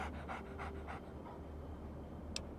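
Dogmeat, the dog companion in Fallout 3, pants in a quick rhythmic run of breaths at close range over a steady low game hum, with one sharp click near the end.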